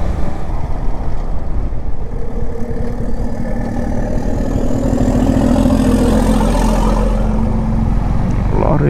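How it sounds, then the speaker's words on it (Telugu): A tractor engine idles and rumbles loudly and continuously nearby on a coastal road between Pondicherry and Mahabalipuram, its deep steady drone filling the whole stretch. "ఏంది ట్రాక్టర్ సౌండ్ వస్తుంది"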